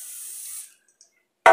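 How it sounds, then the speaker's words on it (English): Cooking spray hisses onto a baking pan in one steady burst lasting about half a second, followed by a short quiet gap, a faint tap, and then an abrupt louder clatter right at the end. "you're going to take your cookie spray, shake it."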